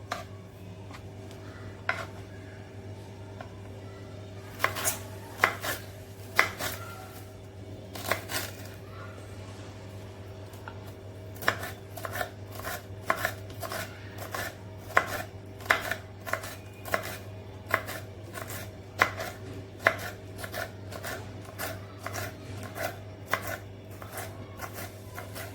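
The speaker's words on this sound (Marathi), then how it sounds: "थोडंसं जाड राहिलं असेल तर पुन्हा त्याला बारीक चिरून घ्यायचं आहे" A knife finely chops capsicum for Manchurian gravy on a board, quiet irregular taps that grow into quick steady bursts over a low kitchen hum.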